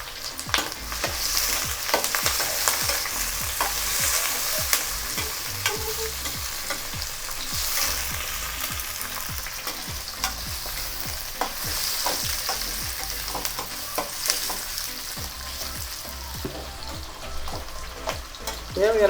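Capsicum and onion fry in hot oil in a pan at home for chilli chicken, giving a steady, loud sizzle with frequent stirring scrapes throughout.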